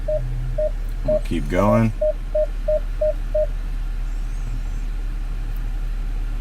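A Jeep Wrangler JL rear parking sensor beeps at an off-road obstacle, a run of evenly spaced, clear short tones at a steady pulse over a low engine idle, with a brief spoken remark cutting in midway.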